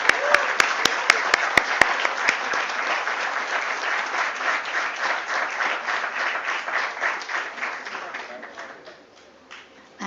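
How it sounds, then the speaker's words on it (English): A crowd at the GNG Electronics Limited IPO listing ceremony on a stock exchange breaks into loud, dense applause, a few sharp claps at first swelling into sustained clapping that fades near the end. "Let's have a huge round of applause"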